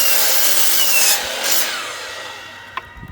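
A saw cuts the bad edge off a wooden board, making a loud, close, steady rasping stroke for about two seconds that then fades out. A sharp knock follows near the end.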